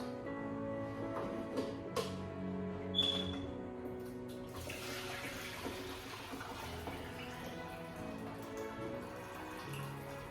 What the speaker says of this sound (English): so I'm going to drain the water out